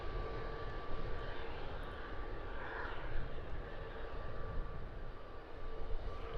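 An EasyJet Airbus A320-200 airliner backtracking along the runway at Luton Airport, a faint, steady distant engine rumble and hiss that holds evenly throughout with no voices.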